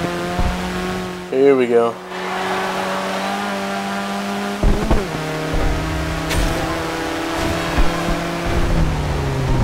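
Steady engine drone of a turbocharged four-cylinder Alfa Romeo 4C in the racing game Forza Horizon 2, with rising and falling revs and gear changes, while someone talks over it.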